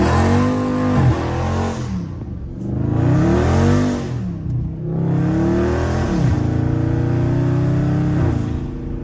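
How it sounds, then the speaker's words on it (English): A car drifting on a rain-wet road with its engine revving hard in three long sweeping surges. Pitch climbs and falls as the car slides through each turn, loud and close, with no voices. "We're gonna drift every turn."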